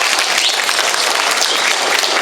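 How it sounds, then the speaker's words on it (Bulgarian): A crowd applauds continuously at a teacher awards ceremony, dense and loud clapping with no breaks, no talking over it. "Аплодисменти за тях."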